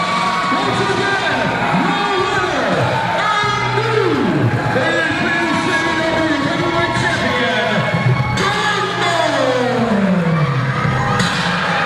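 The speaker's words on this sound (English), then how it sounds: "They're booing him, but it doesn't change anything." Wrestling arena crowd jeering the newly crowned champion Darkmon, a loud sustained roar of mixed shouting and booing with whoops rising over the din throughout.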